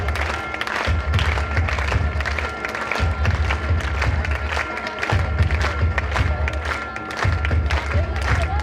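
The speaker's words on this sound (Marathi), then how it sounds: "टाळ्या होऊ दे, टाळ्या होऊ दे." Audience applause at a college cultural program welcoming the principal: sustained clapping from a seated crowd with some cheering, steady and fairly loud, over a low rumbling hum with brief breaks.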